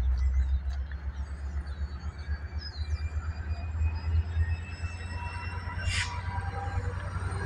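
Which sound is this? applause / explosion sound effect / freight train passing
freight train passing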